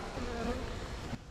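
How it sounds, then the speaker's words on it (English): Close buzzing of many bees swarming around beehives on a homestead, a steady droning hum that drops away sharply near the end. "I'm starting to get bees all over me"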